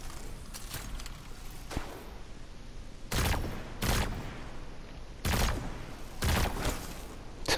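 Gunfire in Destiny during a solo legendary Lost Sector, several loud heavy shots spaced a second or two apart over a steady background hum, some in quick pairs.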